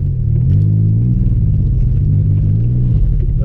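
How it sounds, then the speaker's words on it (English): A Pontiac Grand Prix GT spinning its tires while trying to climb a hill, the engine a loud low rumbling drone that holds and wavers steadily, close and continuous. "Just spinning tires."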